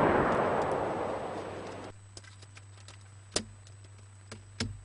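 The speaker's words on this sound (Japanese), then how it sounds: "また爆発したん。" A loud, rumbling explosion in a Sega CD game roars and then cuts off abruptly, followed by a few sharp, scattered impacts and bangs over a low steady hum.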